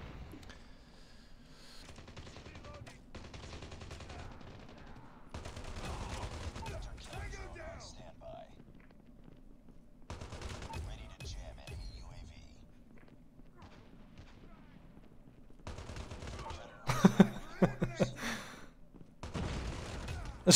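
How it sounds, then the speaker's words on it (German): Grenade launcher shots in Call of Duty: Mobile, heard as a handful of mid-loud thumping bursts with mechanical clatter, spread across the stretch beneath near-continuous talking. "Das ist ein Granatwerfer."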